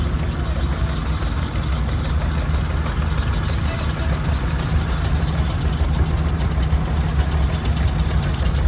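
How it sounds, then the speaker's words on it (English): A 1937 John Deere Model G tractor engine idles with a steady, low, thumping chug, loud and continuous throughout, with talk faintly mixed in. "Next up, we got a John Deere tractor. It is 1937 Model G, owned by Pat Quigley"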